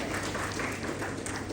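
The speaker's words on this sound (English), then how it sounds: "I would request all of you to give them a huge round of applause as we get started." Audience applause at the inaugural session of an animal health summit: a continuous, even wash of clapping from a large seated crowd, steady throughout the short stretch with no voices over it.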